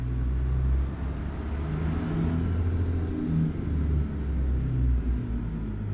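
Steady low truck engine rumble heard from inside the cab in American Truck Simulator, droning continuously with slight swells, no voices.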